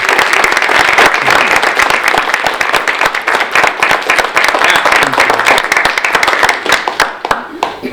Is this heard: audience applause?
yes